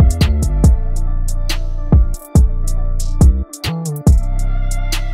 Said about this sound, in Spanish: que es un drill que está súper súper fuego y suena así.